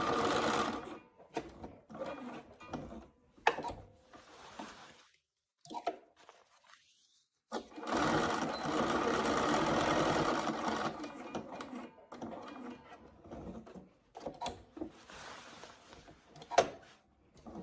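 A sewing machine runs through the curved fly piece of board shorts in bursts of stitching, a long steady whirring run in the middle, with pauses, fabric handling and small clicks between.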